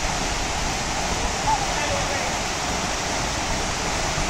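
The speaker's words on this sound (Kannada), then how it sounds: "ಅಲ್ಲಿಂದ ನೀರು ಬರ್ತದೆ ಜರಿ ನೀರು ಎಷ್ಟು ಚೆನ್ನಾಗಿದೆ" A small waterfall at Varavi Siddeshwara Kolla near Savadatti pours in a loud, constant rushing roar of falling water, close by and unbroken.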